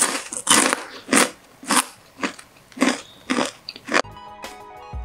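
Crispy, sweet-spicy coated peanuts (kacang disco) made without wheat flour are crunched in a run of about eight loud, close bites, each a sharp crackling burst with short pauses between, then a quieter rattle at the end.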